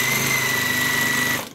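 A sewing machine runs a fast, even stitch along the back of a hooded towel, close and continuous, then stops abruptly.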